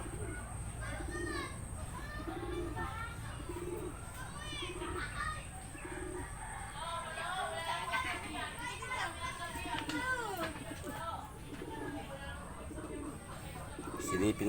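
Pet pigeons coo inside a hut in soft repeated low calls at a regular pace, with other birds chirping nearby and people talking over them.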